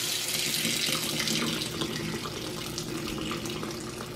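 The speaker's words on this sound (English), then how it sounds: "I come back inside and release the pressure on the hot and the cold water" Water running steadily from RV faucets as hot and cold line pressure is released, a constant hissing splash into a sink, close and unbroken for several seconds with no talking.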